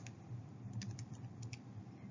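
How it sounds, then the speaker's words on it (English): Calculator buttons pressed to enter a scientific-notation multiplication, a soft, quiet run of small clicks spread across the moment with no voices. "When we type it in the calculator, we still have to use our parentheses."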